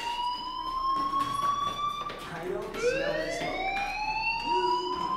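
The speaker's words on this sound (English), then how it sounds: "do you hear that fire alarm?" A fire alarm rings in the video game Life is Strange: a loud, continuous electronic tone whose pitch swoops and climbs partway through, with a faint murmur of voices underneath.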